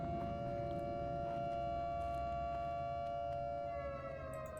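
In the horror video game Those Who Remain, a drawn-out, siren-like wail holds a steady tone with layered harmonics, droning continuously at moderate loudness over low ambient rumble and faint scattered clicks.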